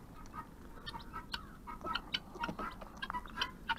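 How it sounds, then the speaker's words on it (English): Chickens out in the snow on a farm cluck and squawk in scattered, overlapping bursts at moderate distance over a soft outdoor background, with no voices. "here's some of our chickens in the snow."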